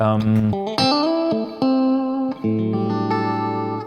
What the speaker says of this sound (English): this again is just the reverb